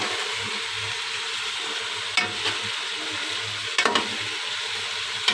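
Spices with crushed red chilli, salt and black pepper frying in a pan for mixed vegetable pulao, an even close sizzle with a few sharp stirring scrapes and clicks, no voices.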